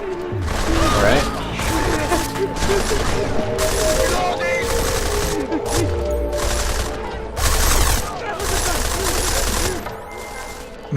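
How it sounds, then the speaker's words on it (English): Video game gunfight in Deus Ex: Mankind Divided, with dense bursts of automatic gunfire and rapid shots crackling almost continuously at close range, loud throughout, mixed with game sound effects. "Who is shooting? Oh god, straight into a gunfight."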